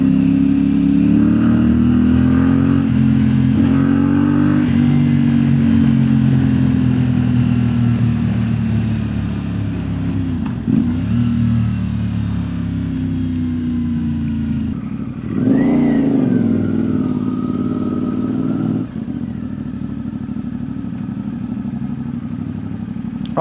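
A CF Moto 450MT motorcycle on the move gives a loud, close, steady engine drone that rises and dips as the rider changes speed and revs, with no voices over it.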